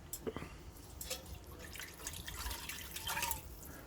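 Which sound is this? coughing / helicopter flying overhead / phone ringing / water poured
water poured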